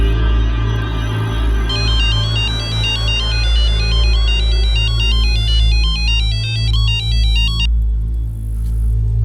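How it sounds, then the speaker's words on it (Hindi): An electronic telephone ringtone plays a repeating warbling melody, loud and continuous for several seconds over a low droning hum, as threatening calls come in during a crime drama. "और पुनीत के अलावा उसके पिता को भी ये धमकी भरे फोन कॉल आने लगे।"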